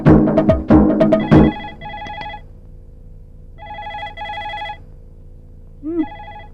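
A telephone rings indoors in a domestic comedy scene, its electronic trill coming in repeated double bursts separated by pauses, loud and close after a brief clatter of louder sounds at the start.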